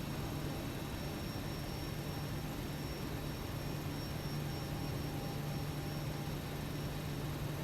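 Both jet engines of an airliner idle steadily after pushback on a stormy day, a constant loud broadband roar with a low steady hum and a faint high whine throughout, no voices.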